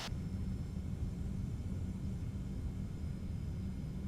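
Thrust reversers on a TFDi 717 airliner roar after touchdown in the Prepar3D flight simulator, a loud, steady, low engine rumble that holds without a break and with no talk over it.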